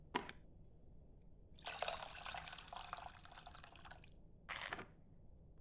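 Liquid runs through a sieve in the cooking video game Venba, in short bursts: a brief splash, a longer steady pouring stream of a couple of seconds, then another short pour, quiet and close with no talking.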